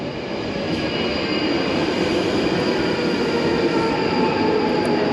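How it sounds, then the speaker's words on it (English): Loud, steady rumble of a London Underground train bound for Morden moving through Colindale station, continuous roar with faint high squeals. "It's a train for Morden."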